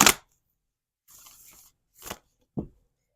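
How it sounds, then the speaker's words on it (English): A tarot deck being shuffled by hand, first a sharp flutter, then a soft riffle, a quick second riffle and a light tap, with quiet gaps between. "Let's give her a shuffle. I like to shuffle these inside and out."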